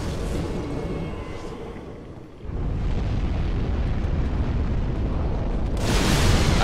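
Fire bombs burst in Dark Souls 3 with loud, rumbling booms that fill most of the stretch, broken by a brief dip before the roar swells again, with a brighter blast near the end.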